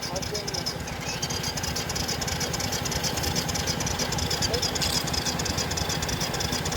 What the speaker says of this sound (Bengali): বাইকটি পাহাড়ের ঢালে থাকার জন্য অনেক চেষ্টার পরেও বাইকটি সেলফ স্টার্ট নিচ্ছে না